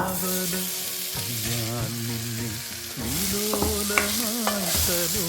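Jackfruit being stirred into rice in a cooking pan makes a soft scraping, sizzling stir under louder sung music with a wavering melody, continuing through the whole stretch.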